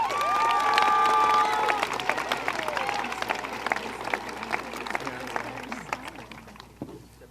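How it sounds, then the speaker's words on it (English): Applause and cheering ring out at the Zeeland East High School graduation ceremony in 2017, loud at first with some whoops, then thinning to scattered clapping and crowd noise as it fades out. "So let's have a round of applause for Mr. Joe Guy."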